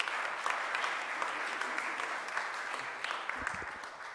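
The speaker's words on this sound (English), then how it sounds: "Please give him a round of applause." A room full of people at a Philadelphia civic event gives the city council president a round of applause, a dense, steady patter of clapping heard from a little distance without talk.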